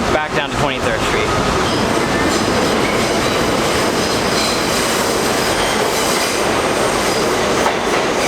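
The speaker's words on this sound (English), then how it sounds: "now we have to take a southbound train back down to 23rd Street" A southbound New York City subway train rumbles loudly and continuously, with clattering wheels and a high metallic squeal near the start.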